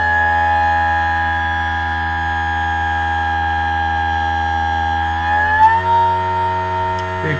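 An electric motor pushed above its base speed by an MTPA controller gives a steady, loud tonal whine that jumps upward in pitch about two-thirds through, then holds at the higher note over a constant low hum.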